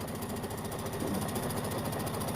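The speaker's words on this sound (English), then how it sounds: "Now I'm just going to sew, and I want to have at least an inch seam allowance on my backing." Domestic sewing machine stitching a long seam down quilt backing fabric, a steady, fast mechanical whirring and needle chatter running continuously and close throughout, fairly quiet, with no voices.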